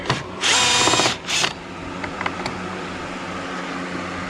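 A power drill backs screws out of an RV door from under the weather stripping, running in two close bursts of whine, one long and one short, followed by quieter handling clicks over a steady background hum.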